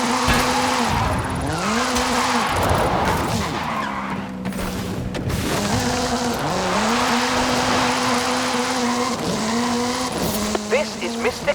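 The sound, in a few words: Hoonigan Gymkhana 10 Ford Focus RS RX drifting, tires squealing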